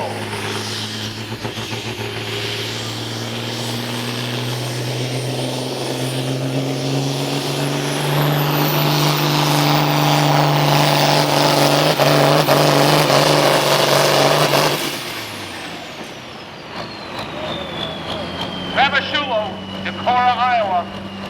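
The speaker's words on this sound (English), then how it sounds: "But the Legend D21 is his tractor tonight." A Legend D21 pulling tractor on a dirt pull track at Platteville builds to a loud, sustained engine roar with a rising whine, then cuts off abruptly before distant crowd noise returns.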